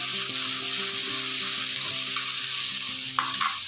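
Beans palya fries in a pan with a constant loud sizzle as it is stirred, a steady hum running beneath, and a few scraping knocks from the spoon near the end.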